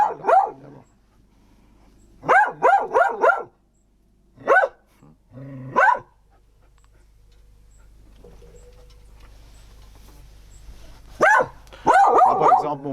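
A dog barks in short bursts at a door, clusters of sharp woofs separated by pauses, with a low growl in between and a faint voice in the background.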